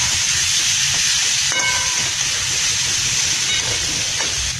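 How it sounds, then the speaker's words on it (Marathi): Masala and green peas fry in a pan for Maggi noodles, giving a steady, close sizzling hiss that holds evenly throughout with no talk. "थोडं चांगला मसाला फ्राय झाला आहे तर मॅगी मसाला टाकू."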